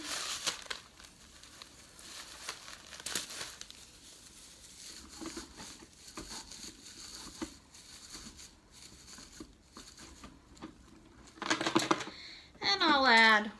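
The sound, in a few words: crumpling foil added to a sensory bottle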